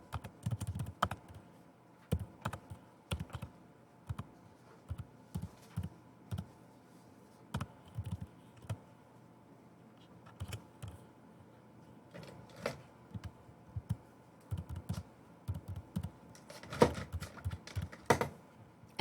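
Personal information is typed on a computer keyboard, with soft, irregular key clicks in short bursts and pauses, close and quiet throughout.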